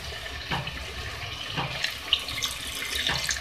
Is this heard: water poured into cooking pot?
yes